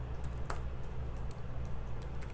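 Typing on a Japanese-layout computer keyboard: soft, scattered key clicks tap irregularly over a low, steady room hum, faint and close.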